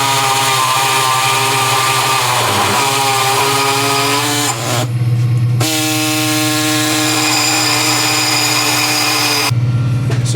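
A power tool screams as it cuts a K24 oil pump clamped in a vise. The loud whine pauses briefly twice, with pitch shifts as the cut bites, close and continuous.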